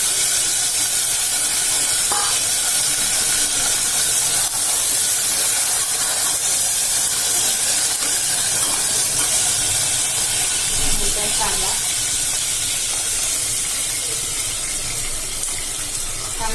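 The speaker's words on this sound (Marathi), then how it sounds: "चांगले ब्राऊन झाले की मग त्यात फ्लावर टाकायचा चांगला" Cauliflower florets sizzle in hot oil in a pan while cooking Khandeshi masala khichdi, a loud, steady hiss that runs unbroken throughout.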